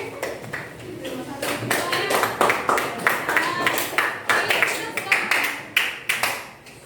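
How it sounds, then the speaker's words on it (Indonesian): A classroom claps for a pupil named Zaki: many quick sharp hand claps in a dense, uneven rhythm that swells and pulses, fairly close and loud, with children's voices mixed underneath. "tepuk tangan buat Mas Zaki"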